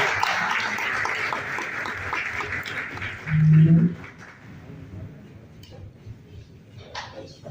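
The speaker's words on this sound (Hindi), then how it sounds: "जोरदार तालियों से इनका भी स्वागत करिए" A crowd at a political gathering applauds to welcome a member of parliament, a broad wash of clapping that starts full and thins out over a few seconds into quieter room noise, with a short hum partway through.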